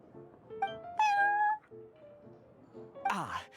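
A cat named Prince in the game Genshin Impact gives a few short meows, one longer drawn-out mew in the middle and a bright squeaky cry at the end, close and clear over soft background music.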